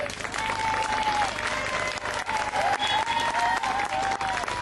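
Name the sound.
audience applause for Jean-Baptiste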